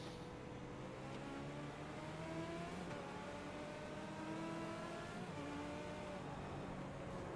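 Legend car engine droning steadily onboard at Daytona in a racing video game, harmonic whine rising and falling with throttle alongside other cars nearby, loud and continuous throughout.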